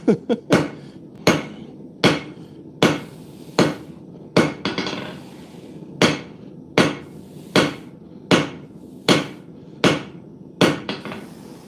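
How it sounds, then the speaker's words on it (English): A hammer strikes hot W1 steel on a bolted-down anvil while forging graver blanks, about fifteen loud ringing blows at a steady rhythm, close and with no talking. "I tightened the bolts down on my Anvil. I'm not sure if you can tell, but it's a nice, a little bit quieter."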